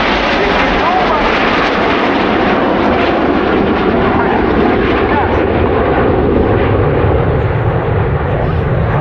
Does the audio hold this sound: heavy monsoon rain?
no